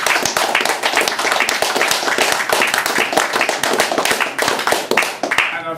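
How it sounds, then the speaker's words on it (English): Live audience at a London poetry reading in a pub applauds, dense steady clapping from many hands filling the room throughout, with a faint voice near the end. "Please a round of applause."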